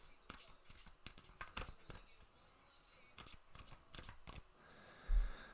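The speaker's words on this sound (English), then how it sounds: "These cards are kind of hard to shuffle." Large, floppy tarot cards shuffled by hand, giving a series of quick papery riffles and slaps that come in uneven bursts, close up and fairly quiet, with a soft thump near the end.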